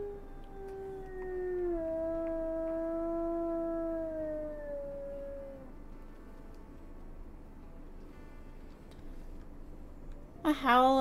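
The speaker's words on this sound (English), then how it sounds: "Howl as a family" Wolves in WolfQuest howl together, several long sliding tones overlapping for about six seconds, then fading to quiet before a sudden bright burst of higher howls at the end.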